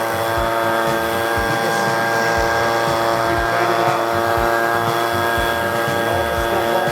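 An Echo PB 250LN gas-powered backpack blower runs continuously at a steady high-pitched engine drone while clearing debris from gutters and a shingled roof, loud and close throughout.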